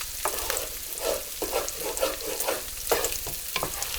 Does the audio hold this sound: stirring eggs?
yes